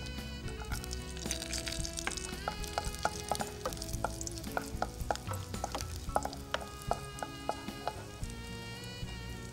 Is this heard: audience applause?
no